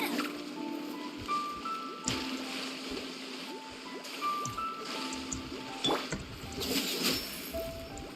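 Underwater ambience from the Genshin Impact video game: a steady, muffled watery wash with soft trickling, bubbling and faint clinking tones scattered throughout, no voices present.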